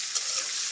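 Onions tipped onto dried chillies frying in oil for a beef dish give a short, dense, close sizzle with a couple of faint crackles and no talking.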